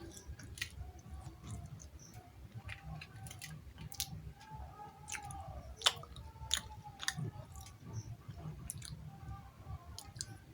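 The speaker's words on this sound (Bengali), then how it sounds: "আমি যে তোমাদের দেখাই দেখাই খাইতেছি" Someone eats late-night homemade noodles, with quiet, close chewing and small wet clicks and bites repeating irregularly over a low background rumble.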